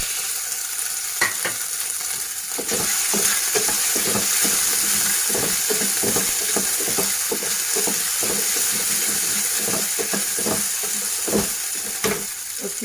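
Cumin, boiled chopped potatoes and spices frying in hot oil for sabudana pulao, a constant bright sizzle with frequent stirring scrapes and clatters, close and steady throughout.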